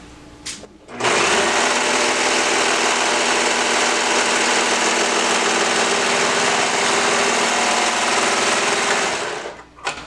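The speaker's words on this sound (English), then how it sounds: "I'm just going to sew it." A sewing machine runs continuously for about eight seconds, stitching the long seam of a romper, with a loud, close, steady mechanical whir that starts and stops abruptly.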